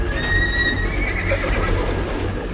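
A frightened horse swimming in a river lets out a loud, strained whinny that carries through a dense, noisy wash of water and rumble, with no talk over it.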